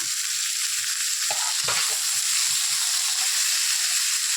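Capsicum and chopped tomato frying with browned onion for chilli fish, a steady bright sizzle and hiss, with a few soft stirring knocks partway through and no speech.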